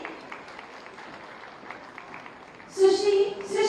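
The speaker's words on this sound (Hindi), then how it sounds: "आप सभी जोरदार तालियां बजाते रहिए।" Applause breaks out near the end at an Uttar Pradesh Day government ceremony, a burst of clapping from an audience rising suddenly after a quieter stretch with faint background talk.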